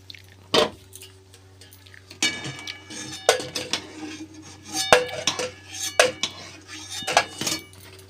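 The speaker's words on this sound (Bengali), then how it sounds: "ডিমগুলো ভালো করে সেদ্ধ হয়ে গিয়েছে এইবার তুলে নেবো" Boiled eggs are lifted out of a pot, giving a run of sharp metallic clanks and clinks of a utensil against cookware, scattered irregularly over a quiet background with faint watery drips.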